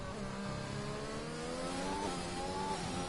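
A race car engine pulls through the gears during a qualifying run at an SBR Trophy final, with a continuous rising, buzzing note that climbs in pitch and stays close and loud.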